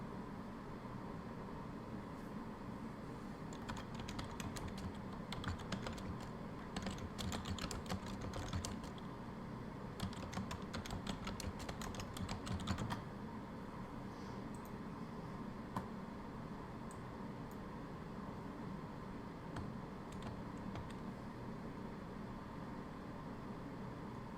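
Keys on a computer keyboard clatter in quick bursts of soft clicks, loudest in the middle stretch, over a constant low background hum, with no talking.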